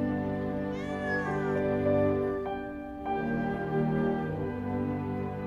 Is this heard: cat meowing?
yes